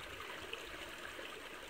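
A mountain stream in Ireland flows steadily with a continuous soft rushing and trickling wash, faint and unbroken, heard alone with no voices.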